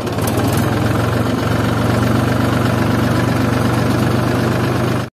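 A second-hand tractor engine runs at a steady idle, a loud close continuous diesel rumble with a knocking pulse, alone and unbroken until it stops at the end.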